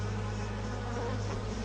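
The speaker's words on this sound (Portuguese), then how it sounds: "Outras ficam lá fora, esvoaçando para coletar néctar e pólen das plantas do seu jardim e trazendo para dentro da colmeia." Solitary bees buzz and flutter steadily among garden plants gathering nectar and pollen, a continuous close insect drone with no pauses across the short stretch.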